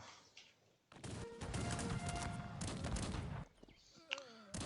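Loud bursts of cannon and gunfire from the game Cossacks 3 crash in for several seconds, dense and booming, then drop away to quieter effects and a few sharp pings.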